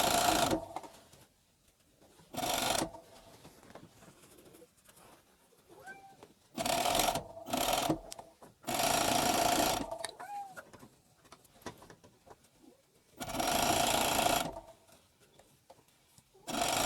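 A coverstitch machine sews the hem of a T-shirt sleeve, running from the top of the sleeve down to the hem. It whirs in several short bursts separated by quiet handling noises, close and moderately loud, with no voices.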